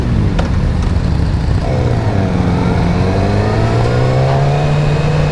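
A 2017 Yamaha R6 sport bike engine revs up during a test ride, its loud, continuous drone climbing steadily in pitch toward high RPM with no talking.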